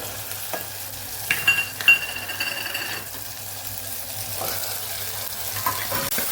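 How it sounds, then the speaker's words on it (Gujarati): Peas and potatoes are tipped into hot oil with tomato and spices and stirred, giving a soft, steady sizzle and frying hiss with scraping and clinking stir sounds, close and fairly quiet. "અહીંયા આપણે વટાણા અને બટેકાને ઉમેરી દઈશું."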